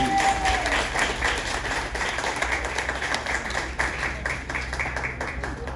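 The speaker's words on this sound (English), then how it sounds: "Can you give her another round of applause" An audience at a foundation award presentation in Buff Bay, Portland, gives a sustained round of applause, a steady, moderately loud wash of clapping that runs for several seconds.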